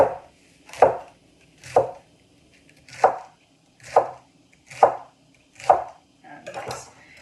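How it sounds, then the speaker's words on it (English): A knife chops lettuce on a floppy cutting board in a home kitchen, giving seven evenly spaced, crisp thuds close up, with quiet pauses between strokes and no talking. "slicing it down and chopping it across"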